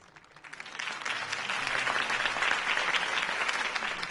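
Applause from a crowd in the video game Batman: The Telltale Series swells quickly and keeps going, a dense, sustained clatter of clapping.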